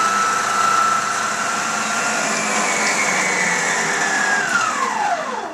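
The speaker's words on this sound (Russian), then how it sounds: "Помещаем ее в миксер. И насадкой для вымешивания теста начинаем вымешивать." A stand mixer with a dough hook kneads chicken and pork ham mince, a loud steady motor whine that holds even throughout, with the pitch gradually drifting and dropping near the end.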